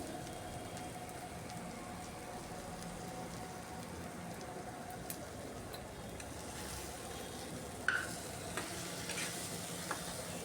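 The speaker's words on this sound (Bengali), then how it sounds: "এই বাটা মশলাটা এভাবে চিকেনের সাথে কষিয়ে নিতে হবে।" Chicken with ground spice paste fries in a pan, a dense, even sizzle like steady rain that runs throughout, with a few faint clicks of stirring toward the end.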